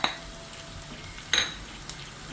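Ground pepper, fennel powder, cumin powder, garam masala and turmeric stirred into hot oil for pepper chicken, giving a soft, steady sizzle with a few sharp clinks of a spoon against the pan, close and alone.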